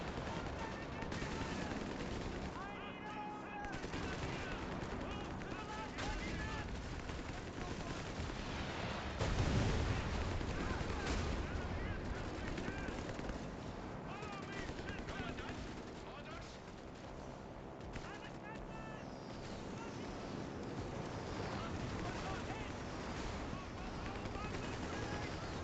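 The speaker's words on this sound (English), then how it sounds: "Could you cancel your artillery bombardment?" Company of Heroes 3 battle sounds roll on without a break: artillery shells thud and explode while machine-gun and rifle fire crackles steadily, all moderately loud under someone talking throughout.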